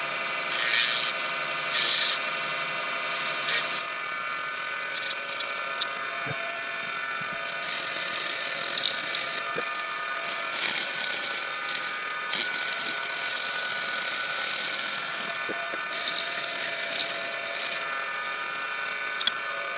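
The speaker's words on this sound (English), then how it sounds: "let's do a little bit of sanding" Sandpaper rubs against a spinning wooden workpiece on a lathe while turning a hydrangea lamp, giving a steady hiss and rasp over the whirr of the machine, with brief pauses and shifts in pressure.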